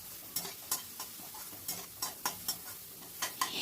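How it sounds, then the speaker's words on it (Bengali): Masala is stir-fried in a pan: a spatula clicks and scrapes against the metal in a brisk, irregular rhythm over a soft background sizzle. "আবারও মশলাটাকে ভালো করে কষিয়ে নেব।"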